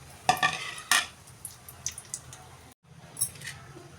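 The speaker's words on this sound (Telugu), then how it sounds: "ఇప్పుడు ఆయిల్ హీట్ అయినాక అందులో బిర్యానీ సామాన్లు వేసుకోవాలి ఫ్రెండ్స్" Whole biryani spices like bay leaves, cinnamon, cloves, mace and cardamom tossed into hot oil for vegetable biryani, giving faint sizzling with a few sharp clinks of a utensil against the pan.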